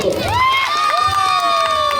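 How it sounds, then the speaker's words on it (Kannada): A crowd cheers and shouts loudly after a call for applause at a gathering, with high excited voices rising and holding over a dense, continuous wash of noise. "ಜೋರಾಗಿ ಚಪ್ಪಾಳೆ ತಟ್ಟಬೇಕು"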